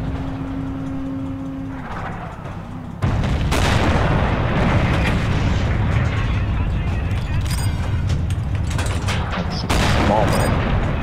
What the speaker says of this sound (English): I'm spamming it with MG bullets.